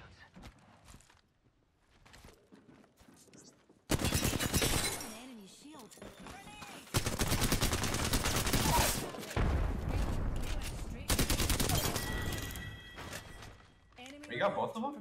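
Apex Legends gunfire plays in long loud bursts of rapid automatic shots, separated by quieter stretches with clatter and faint effects, and voices talk.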